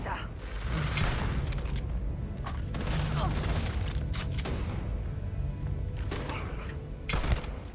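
Grenade explosions and bursts of gunfire in the sci-fi video game Starfield, a dense steady battle din with repeated booms and a sharp blast near the end, with a voice talking over it.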